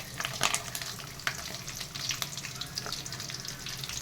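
Onion, curry leaves, cinnamon and a bay leaf fry in a kadai for green chilli mutton fry, a moderate crackling sizzle with scattered pops and spatters and light stirring clicks, close by.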